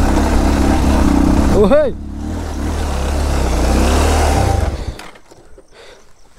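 Motorcycle engine revving on a rough mountain track, a loud, close, low rumble that rises and falls, with a voice calling out over it before the engine drops away to quiet.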